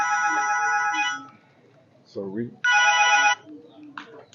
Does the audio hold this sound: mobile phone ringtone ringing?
yes